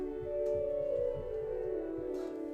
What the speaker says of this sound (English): that's a fairly fat sounding flute